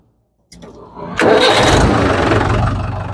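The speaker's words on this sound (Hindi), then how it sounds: "ये हम ट्रैक्टर स्टार्ट कर रहे हैं" A Mahindra tractor engine cranks and catches after a moment of silence, then settles into a loud, steady rumbling idle close by.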